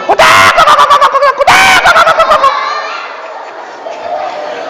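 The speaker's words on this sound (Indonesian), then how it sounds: "begitu bunyi ayam nih" Loud, rapid gobbling calls from a chicken in two bursts, followed by a fading, hollow trailing tone.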